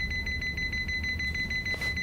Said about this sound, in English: I wonder what the beep is. His heart rate?